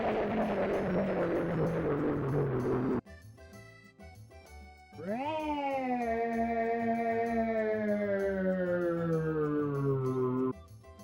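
SNES-style chipsynth channel using FM pitch modulation with a metallic, ring-modulator-like timbre: a noisy buzzy tone, a brief pause with thin clicks, then a long sliding harmonic note that swoops up and slowly falls before cutting off.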